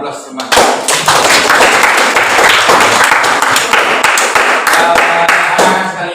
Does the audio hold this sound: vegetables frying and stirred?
no